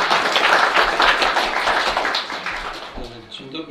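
Audience applause at an expert conference in a town hall, a dense wash of clapping that starts loud and gradually thins out over a few seconds, with a voice beginning near the end.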